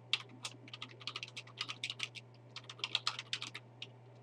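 Fingers typing on a computer keyboard, a quick irregular run of light clicking keystrokes with brief pauses, close and fairly quiet, no voices.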